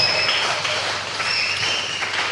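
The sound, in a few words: applause and ululation welcoming the viewers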